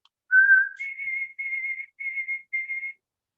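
A person whistles an imitation of the white-throated sparrow's song, the bird heard above tree line on Mount Washington: one steady opening note, then four evenly spaced, slightly higher wavering phrases, clear and alone.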